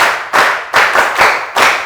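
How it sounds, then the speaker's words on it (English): Secondary school students in a Lagos summer class clap together in a few sharp, evenly spaced bursts, loud and close, with no talking. "Clap for me."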